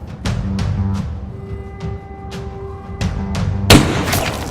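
A sniper gunshot in a war short film: several sharp, booming reports spaced about a second apart over a low rumbling bed, ending in a louder, harsher crack near the end.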